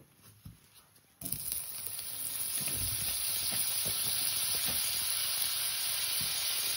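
Butter and oil hit a hot pan for a smoky cheese paneer ghotala and burst into a loud, close sizzle. The steady hiss runs on after a few faint clicks at the start.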